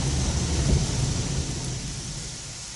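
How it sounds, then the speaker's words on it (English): High-pressure water jets blast a car in an automatic car wash at Fitchburg Car Wash on John Fitch Highway, a loud, dense, continuous rushing hiss that eases slightly toward the end. "through the high pressure wash, run the wipers to help clean the blades"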